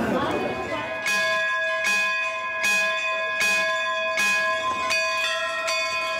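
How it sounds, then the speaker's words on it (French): Large temple bells in India ring out in a steady series of loud, resonant strikes, each tone ringing on and overlapping the next. "Ces cloches doivent sonner fort et loin pour colporter de bons présages"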